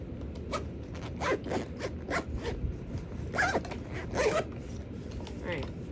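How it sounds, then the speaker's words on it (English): Zipper on a Kirby G series vacuum bag being worked closed in several short, scratchy pulls, close and fairly quiet, with a brief stuck spot. "Make sure the bag isn't in the way of the zipper."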